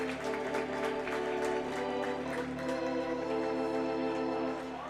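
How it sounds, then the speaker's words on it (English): A baseball crowd at Blair Field claps for a player during a Long Beach State game, a steady patter of applause held for several seconds at moderate distance, fading slightly toward the end. "He gets some claps from the Blair Field crowd."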